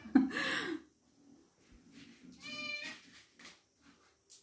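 A house cat meows once, close and clear, a drawn-out tonal call that rises and falls, following a brief rustle in an otherwise quiet room.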